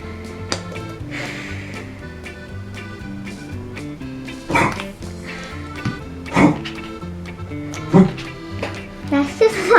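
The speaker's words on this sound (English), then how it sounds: "That's just my dog." A pet dog barking indoors, several sharp, loud barks spaced irregularly across the stretch and growing more frequent toward the end, with a person talking in between.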